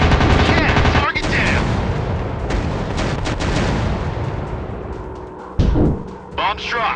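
Bombs and gunfire ring out in an airplane war video game, with dense, loud bursts of firing and heavy blasts, a sharp boom near the end, and faint voice fragments mixed in.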